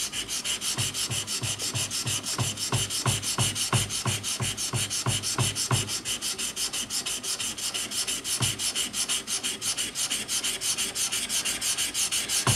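A Stanley 71 router plane is sanded on 1,000 grit abrasive, a continuous close rasping rub with a regular back-and-forth rhythm of strokes that grows steadier and smoother toward the end.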